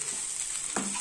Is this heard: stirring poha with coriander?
yes